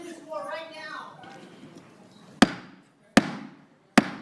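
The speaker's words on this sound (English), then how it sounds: "she banged the gavel" Three sharp, loud gavel bangs crack in a hearing room at uneven intervals, each ringing briefly, following a stretch of voices talking.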